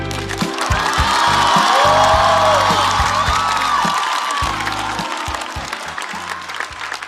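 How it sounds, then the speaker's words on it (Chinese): A large audience gives sustained, loud applause with scattered cheers and whoops for actress Liu Xiaoqing at a live talk show event, the clapping steady throughout while music plays underneath. "再次把热烈的掌声送给主咖刘晓庆。"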